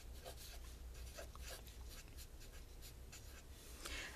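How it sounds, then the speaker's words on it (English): A pen writes a fragrance name onto a small label, producing a steady, close scratching and rubbing that runs continuously with short strokes and no voices. "I write honeysuckle up here."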